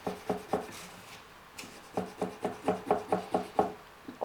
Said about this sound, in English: I'm going to try a fret rubber. Got a super fine fret rubber.